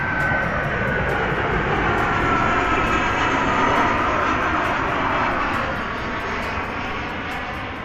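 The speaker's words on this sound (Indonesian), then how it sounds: "ada pesawat" Airplane passing overhead near a house with a rooftop solar water heater, a steady broad engine roar that stays loud throughout and eases slightly toward the end, with no talking.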